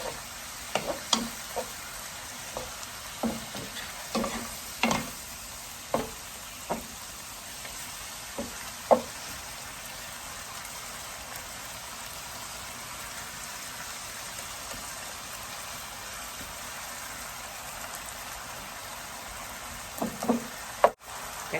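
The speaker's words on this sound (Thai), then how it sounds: "ผัดเครื่องให้เข้ากันเลยนะคะ ก่อนใส่ข้าวนะคะ" Seasonings are stir-fried in a pan ahead of adding riceberry rice for chicken fried rice, with a soft steady sizzle broken by scattered scraping and clanking strokes of a utensil, more frequent early on, with a couple of sharper knocks near the end.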